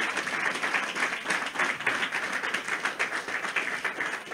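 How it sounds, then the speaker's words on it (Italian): Applause from an audience at a political party's presentation of candidates and programme, a steady dense wash of hand clapping lasting throughout, fairly even in loudness with no voices over it. "Questo applauso per Claudio è meritato"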